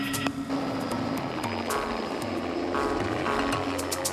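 Helicopter flying dangerously low over the ground in Africa, herding gemsbok toward a capture boma, with a continuous loud rotor thrum and engine whine holding steady and close throughout.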